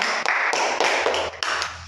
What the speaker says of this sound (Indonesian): Kasih dulu tepuk tangan untuk Naura.